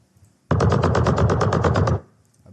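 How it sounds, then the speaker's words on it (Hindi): Automatic gunfire from a Unity zombie shooter game, a loud rapid burst of about fifteen evenly spaced shots lasting a second and a half, alone with no talk. "Gun shot."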